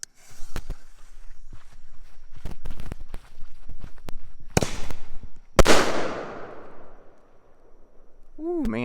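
Daytime Fourth of July fireworks and small firecrackers go off outdoors in a scattered string of sharp pops and cracks, one louder bang with a long crackling tail near the end, with a voice briefly heard.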